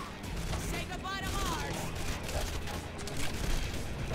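Red Faction Guerrilla Remastered combat: continuous dense gunfire and bursts from several weapons, loud and close, with speech-like game voices mixed into the din.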